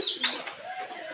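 A pigeon coos in a short, close call, with soft rising and falling tones over faint background noise.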